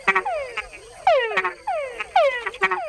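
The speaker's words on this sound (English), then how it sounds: "Male frogs make the added chuck sound to attract females." Several male frogs in Panama call near and loud, each call a quick descending chuck with bright harmonics, repeated in uneven bursts across the stretch with no talk.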